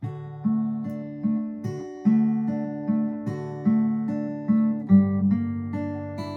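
A guitar plays a song intro, picking an even, ringing arpeggiated pattern over bass notes at a steady, gentle pace with no voices.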